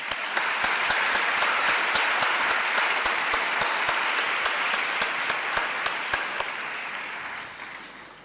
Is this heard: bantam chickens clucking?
no